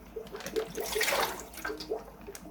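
Water and black neocaridina shrimp poured from a shipping bag into a shrimp tank, making a soft close splash and gurgle that swells in the middle and then trickles away.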